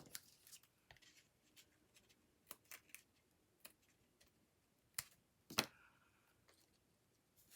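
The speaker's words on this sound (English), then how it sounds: "I think I need to snip this one too." Scissors make a handful of sharp, quiet snips while cutting apart a paper flower from a Stampin' Up! Quiet Meadow craft bundle. The clicks come in scattered, irregular bursts close by, with no voices.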